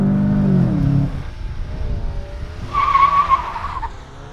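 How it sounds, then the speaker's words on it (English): A 2019 VW Jetta GLI launches with launch control, its engine revving briefly before a loud, sustained tire squeal rises for about a second and then cuts off, heard up close without talk. "The tire squealing's kind of cool though."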